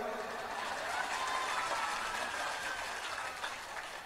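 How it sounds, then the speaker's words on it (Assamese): Crowd clapping at a political rally in Kokrajhar addressed by Chief Minister Himanta Biswa Sarma, a steady dense wash of applause held throughout at moderate distance with no break. "খুশি হলে তো হাত তালি মাৰিব লাগে"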